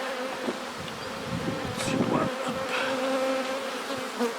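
Honeybees buzz densely around an open hive during a shook swarm, with supers being handled nearby. The swarm hum is close and continuous, with individual bees droning past the listener.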